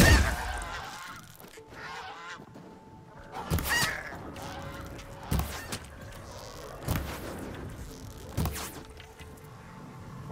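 Geese honk repeatedly in Horizon Zero Dawn Remastered, sharp calls spaced every second or two over a quiet buzzing ambience, fairly close.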